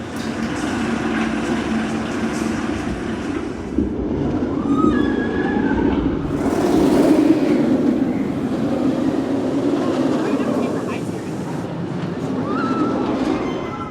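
Nemesis Reborn, a roller coaster at Alton Towers, heard from the last row on board as a continuous loud roar of wheels on track with rumbling, squealing and wind rush that swells and eases through the ride, with no clear talking.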